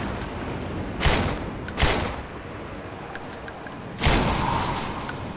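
Gunshots fired at a light in the video game The Darkness 2: three loud, close blasts spaced unevenly, each with a short ringing tail over a low background hiss, with no voices.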